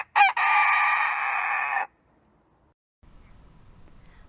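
A rooster belonging to a French family crows loudly and close by: one sharp onset, then a sustained crow for about a second and a half. Silence follows, then a faint low rustle.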